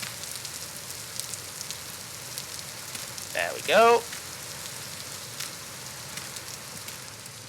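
Rain falling outdoors in the Vintage Story game, a soft, steady hiss of patter running throughout, with a brief louder rustling burst in the middle and a short spoken remark.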